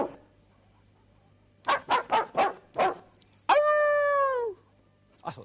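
Dogs barking in a quick rhythmic series of five yelps, then one long sustained howl-like note, heard close and clear against a quiet background with a faint hum.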